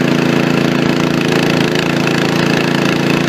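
An ATV engine on half choke in cold weather, around 28 degrees, runs slightly lean with a steady, loud, continuous idle and a faint irregular knock throughout, with no voices.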